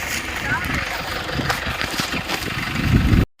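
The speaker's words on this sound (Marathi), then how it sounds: "यानंतर मग आपण ट्रॅक्टर भरू चालू घेतो" A tractor engine chugs steadily at close range, a rough mid-low rumble that swells slightly near the end before cutting off.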